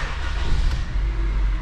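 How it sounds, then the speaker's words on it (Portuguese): A Honda Civic engine starts and settles into a low, steady idle rumble, heard close and alone for under two seconds. "Primeiro a gente dá partida no carro."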